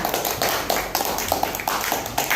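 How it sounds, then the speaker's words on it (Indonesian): Students in a classroom applaud their classmates during a lesson, a short stretch of close, uneven hand claps with distinct sharp strikes rising above the steady patter. "tepuk tangan untuk teman kalian"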